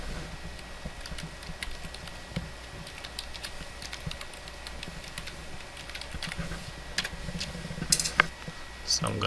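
Quiet, close clicking of computer keyboard keys as a password is typed on a Mac, irregular taps with a couple of louder clacks toward the end.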